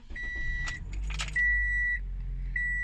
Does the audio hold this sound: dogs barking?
no